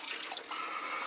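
Water poured onto a glass lamp globe during a deep winter freeze, a brief continuous splashing trickle heard up close with no talking.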